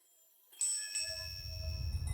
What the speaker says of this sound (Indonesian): Jadi setiap 60 tahun, lonceng itu berbunyi sekali